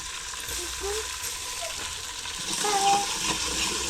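Green chilli and ginger paste, ground on a grinding stone, frying in a pan with a steady broad sizzle and some stirring, getting louder toward the end; a voice is faintly present in the background.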